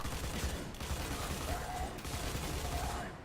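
Steady stream of rapid gunfire striking a wall in Destiny, continuous clattering impacts at moderate level with no pauses, no talk.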